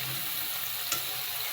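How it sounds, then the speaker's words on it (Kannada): Gobi manchurian deep frying in oil gives off a soft, continuous crisp sizzle with one brief sharp pop, quiet and close with no talking. "ಈ ರೀತಿ ಚೆನ್ನಾಗಿ ಫ್ರೈ ಆಗಬೇಕು ನೋಡಿ. ಕ್ರಿಸ್ಪಿ ಸೌಂಡ್ ಹೆಂಗೆ ಬರಬೇಕು."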